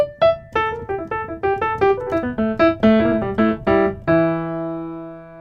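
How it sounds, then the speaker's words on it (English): A blues scale on piano, played as a run of single clear notes at an even walking pace, climbing then descending and ending on a sustained ringing note, close and alone. "This is the sound of the blues scale."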